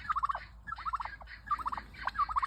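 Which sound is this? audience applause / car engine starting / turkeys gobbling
turkeys gobbling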